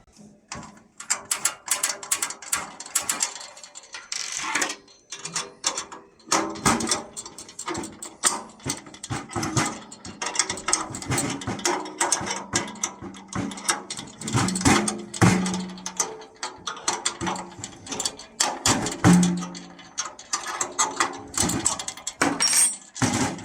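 An open-end spanner loosens drumhead tension rods one after another, giving a busy run of metallic clicks and ratcheting ticks, close and fairly loud, repeating in irregular bursts.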